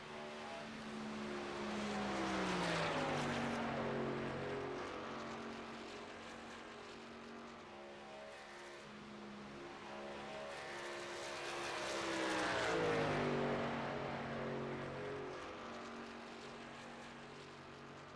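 iRacing trucks race around Indianapolis Motor Speedway, their engine whine rising and falling in pitch as two loud passes swell and fade, with steady track noise between them.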